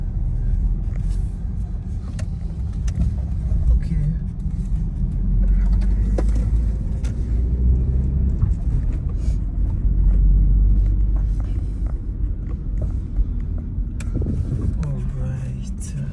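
A bus at a newly built bus and train station, heard as a steady low engine rumble with passing traffic noise throughout, while people talk nearby.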